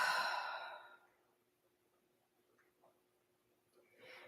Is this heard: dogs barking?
no